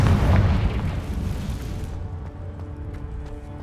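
A Confringo blasting spell explodes in Hogwarts Legacy with a loud, booming burst up front, then a rumbling tail that slowly fades, alone and close.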